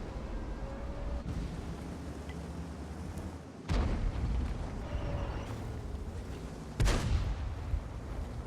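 Heavy tank cannon blasts in a World of Tanks battle, two loud booming shots a few seconds apart over a constant rumbling engine and battle backdrop.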